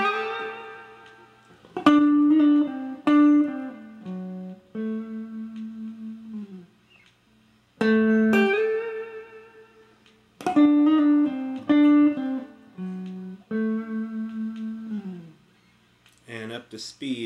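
A rockabilly electric guitar lick played slowly, phrase after phrase of plucked and pulled-off notes that ring out, with short gaps between them and no voice over the playing.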